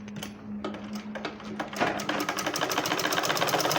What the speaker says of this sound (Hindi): अब इस तरीके इसको ओपन सिलाई लगाएं यहाँ से।